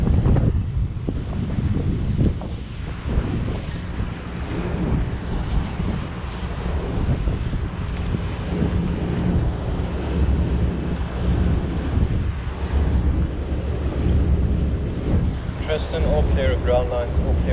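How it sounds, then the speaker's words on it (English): Steady wind blowing across the microphone aboard a super yacht at sea between Corsica and Sardinia, a continuous loud low rumble with water and engine noise mixed in throughout. "Wind is pushing us to port."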